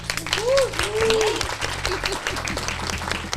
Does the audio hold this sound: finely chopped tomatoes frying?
no